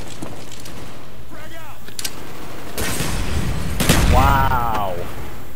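Scattered gunshots and heavy bursts of fire in a first-person shooter, moderately loud, separated by gaps and mixed with other game effects, including short tonal whines.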